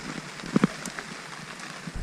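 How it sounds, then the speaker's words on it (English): Steady rain falls on surfaces outdoors at dusk, a soft continuous hiss with a few louder drops tapping nearby. "It's still raining."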